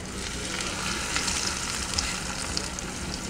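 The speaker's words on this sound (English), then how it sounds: "That's like the perfect sizzling sound." Browned pork pieces sizzling in a frying pan, a steady crackling hiss with small pops scattered throughout, close and moderately quiet, no voices.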